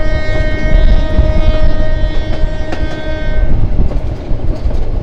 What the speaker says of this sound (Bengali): ট্রেন বারবার হুইসেল দিয়ে যাচ্ছে।